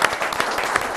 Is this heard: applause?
yes